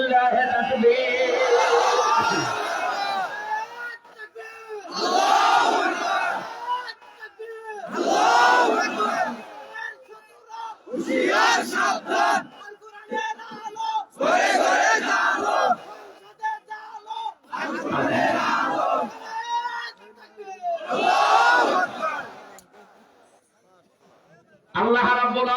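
A large crowd at a waz mahfil shouts the takbir chant in loud repeated bursts, each answering call swelling and cutting off, about seven times over the span with brief pauses between.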